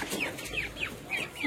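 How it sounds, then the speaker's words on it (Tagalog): Hungry Brahma chickens cluck repeatedly before feeding, short nasal calls coming every few tenths of a second, close and moderately loud against a soft background. "Ngayon, papakainin natin yung ating mga Brahma. Ito, dahil gutom na sila."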